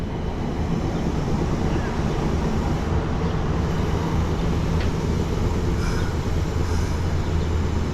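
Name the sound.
streetcar passing by in Little Rock, Arkansas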